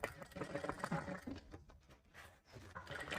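A sewing machine runs a basting seam on blouse fabric, its soft mechanical whir faint and close, rising and easing in short runs with a brief dip near the middle.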